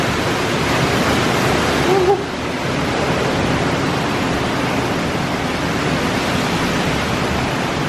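Hurricane Ian's wind and rain roar as a dense, steady hiss like white noise, loud and unbroken, with a brief faint voice early on.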